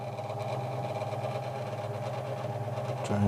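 A Ryobi scroll saw cuts through 6mm MDF with a rapid, steady reciprocating buzz and rattle, close and fairly loud, with a slight surge near the end.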